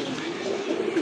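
Pigeons offered for sale, including a black-laced pair, make a low, continuous, throaty cooing that holds steady for about a second, close by, with no voices.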